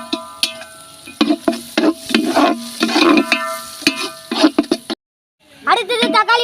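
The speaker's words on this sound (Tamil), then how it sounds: "வெங்காயம் நல்லா வதக்கலாம்." Onions being sautéed for a large 5 kg batch of egg rice, with vigorous rhythmic stirring and scraping in a big pot over a soft sizzle, a short pause, then a voice speaking.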